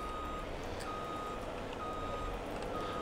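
Truck in Farming Simulator 22 backing up with its reversing alarm, a few evenly spaced electronic beeps over a steady engine and ambient hum, no talking.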